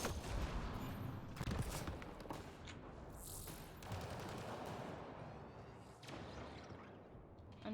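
Gunfire rattles through a Mass Effect Andromeda battle on Eos, dense overlapping shots and bursts from several weapons in a sustained, close firefight, with no talking.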